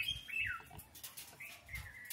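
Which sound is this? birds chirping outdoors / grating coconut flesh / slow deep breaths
birds chirping outdoors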